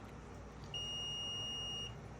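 A digital multimeter in continuity test mode gives one steady, high, clean beep lasting about a second, fairly quiet over a soft background hiss.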